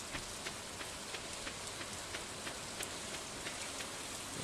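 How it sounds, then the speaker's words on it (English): Steady rain falls on an island in the video game Stardew Valley, a soft continuous hiss with faint regular droplet ticks, quiet and unbroken by talk. "It's raining on the island today, so no one will be at the resort."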